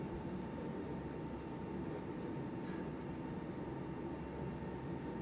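A FlixTrain passenger train runs steadily through the Berlin area in Train Simulator Classic, giving a continuous loud rumble of wheels and traction with a brief hiss partway through and no talk.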